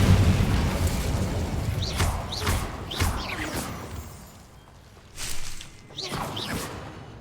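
Incendio fire spell blasts cast in Hogwarts Legacy, several whooshing, booming bursts spaced a second or so apart over busy game ambience, with a pause midway before two more blasts.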